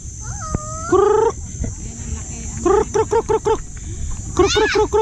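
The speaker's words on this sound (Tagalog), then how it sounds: "Dadalaw tayo uli sa ating mga manok" Chickens cluck and call in short repeated bursts, close by, with a steady high background whine and some low rustling.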